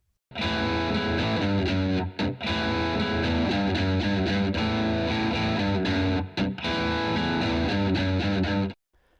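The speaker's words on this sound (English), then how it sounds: "It's got this killer guitar riff in it." A heavily distorted electric guitar plays a thick, driving riff, loud and continuous, with a couple of brief breaks before ringing out.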